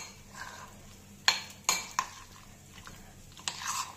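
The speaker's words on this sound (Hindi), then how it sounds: "ये सारी चीजें इसके अंदर डालने के बाद में हम इसको एक अच्छा सा मिक्स देंगे।" Chicken sandwich filling with bell peppers and onion mixed in a bowl. A few sharp utensil clinks and scrapes come in a short burst, then a soft stir.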